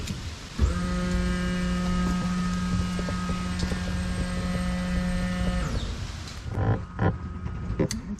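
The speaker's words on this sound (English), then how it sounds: "Ooh, I hear the pump back there" A steady electric fuel pump hums on a Chevy Blazer being converted to SBC 350 EFI, a constant tonal whine holding for about six seconds before cutting off, followed by a few brief knocks and clatters.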